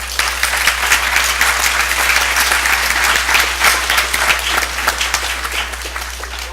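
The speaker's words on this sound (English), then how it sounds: "Let's give them one more round of applause." An audience at a school board meeting claps in a dense, steady round of applause that holds at an even, fairly loud level for several seconds, with no voices over it.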